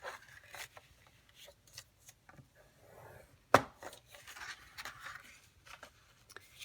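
Paper being scored for a DIY gift bag, with faint scraping strokes and soft taps in an uneven rhythm, one sharper knock in the middle, quiet and close.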